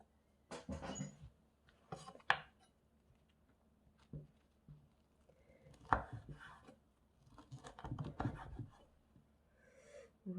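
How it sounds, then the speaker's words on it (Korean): A knife chops radish into large chunks for pickles. The cuts are irregular, close and fairly soft, coming in short clusters of thuds on the board with quiet gaps between them. "이렇게 좀 큼지막하게 썰어서"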